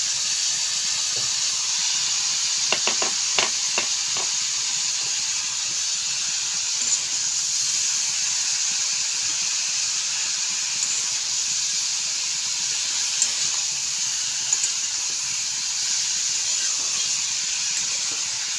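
A spice paste of ground cumin, turmeric, chili powder, tomato and ginger sizzles in a hot pan with a loud, steady hiss. A brief burst of clattering comes near the start.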